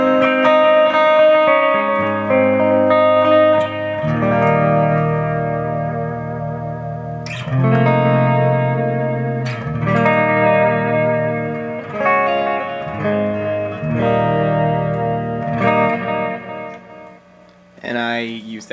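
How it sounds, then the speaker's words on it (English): Clean electric guitar chords and picked notes through a Rivera RM-1 amp's clean channel ring out with lush reverb and echoing delay, played continuously and fairly loud with sustained, shimmering tails. "bank 1 is my clean channel, and it's got reverb and delay on it"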